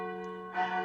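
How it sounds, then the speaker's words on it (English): A single bell tone rings with a clear, sustained resonance, then a second, brighter strike swells in; brief and fairly soft. "I like the bells."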